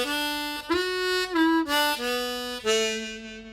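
A harmonica plays a short melody phrase from the fiddle tune Angeline the Baker in the lower octave, clear single reedy notes with draw and blow changes, close and alone.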